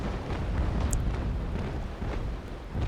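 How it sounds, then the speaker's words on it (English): Sailing-ship cannon broadsides in the Naval Action naval battle game roll out as a continuous rumble of heavy booms, with overlapping volleys at mid distance and no speech. "Some good volleys here, or broadsides."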